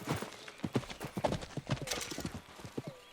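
Horse hooves clip-clop steadily in Red Dead Redemption 2, a rhythmic run of close, distinct hoofbeats with a brief whinny-like tone partway through.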